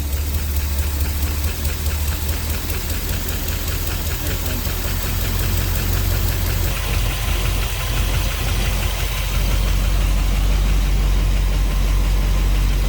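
An old carbureted car engine runs steadily just after a cold start, a loud, continuous idle with a rough, knocking low rumble throughout and no talk.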